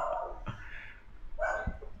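A pet dog barking indoors at home, two sharp yapping barks about a second apart, fairly close and moderately loud, with no speech over them.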